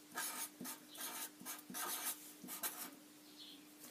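Pen or pencil writing on paper, scratchy rubbing strokes in short bursts as an email address is jotted down, close and fairly quiet with no talking.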